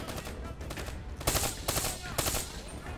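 Automatic gunfire from a new gun in Call of Duty: Black Ops III, sounding realistic: rapid bursts crackle in three loud stretches after a softer opening, with players talking around them.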